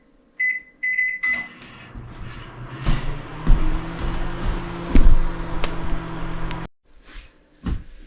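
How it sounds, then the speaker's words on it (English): A few short beeps, then a steady low hum of a running microwave melting margarine, with rattles and clicks, ending in silence and a final faint thump. "So I will put it in the microwave for a bit."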